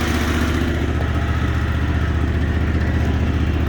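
Exmark Lazer Z S-Series 60-inch commercial zero-turn riding mower engine idles smoothly, a loud, close, steady low rumble with an even throb and no variation.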